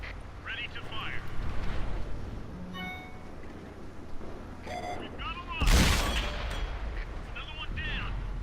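Tank cannon fire in a tank battle video game: a single heavy blast near the middle stands out over a low rumbling battlefield backdrop, with brief electronic interface tones and scattered effects around it.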